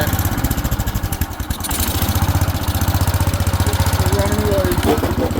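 The engine of a 1970 garden tractor runs loudly and close, its rapid rhythmic chugging holding steady throughout with a short dip early on, while a person talks over it.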